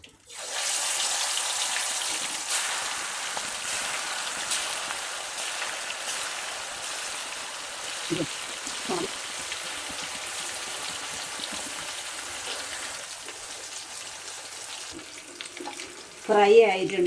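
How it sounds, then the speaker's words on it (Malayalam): Masala-marinated tilapia frying in a pan gives off a steady, close hiss and crackle of hot oil that runs throughout, with a few soft knocks and a louder clatter near the end. "ഇനി നമുക്ക് ഫ്രൈ ചെയ്തെടുക്കാം."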